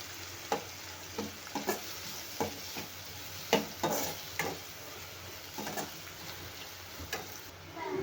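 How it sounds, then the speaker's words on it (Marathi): Finely chopped onions, two large ones, frying in oil in a pan until golden, with a steady low sizzle broken by periodic stirring scrapes and clicks, no talking. "आता हे गोल्डन होईपर्यंत छान तेलामध्ये फ्राय करून घेऊया"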